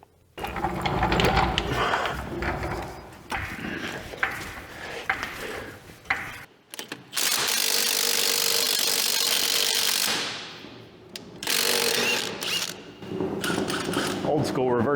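A wrench working the shock absorber bolts on a barn-find 1964 Jeep CJ5, steady ratcheting clicks running close and loud in long bursts, with brief pauses and some clanking between.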